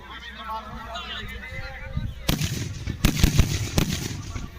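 Firework rockets burst near a temple during a festival in Odisha, a run of sharp cracking bangs after a quieter stretch where people talk, with several loud pops standing out over the crowd noise.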